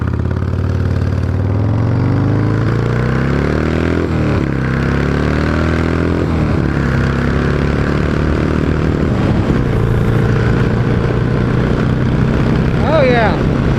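A 1976 Harley-Davidson Ironhead motorcycle engine with a Scotch-Brite air intake breather cleaner on its carburetor runs loud and close, its pitch climbing and sagging through several revs over a steady throbbing idle.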